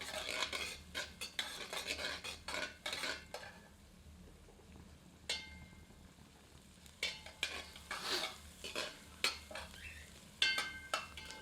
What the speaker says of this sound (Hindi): मिलाकर 2 से 3 मिनट धीमी आंच पर पकाते हैं।